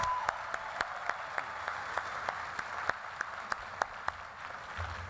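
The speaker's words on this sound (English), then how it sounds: "please join me in a round of applause for Senator Warren, Dr. Adams, and Dr." Sparse clapping from a university commencement audience, a handful of separate claps ringing out at an uneven pace over a steady room hum, with no voices.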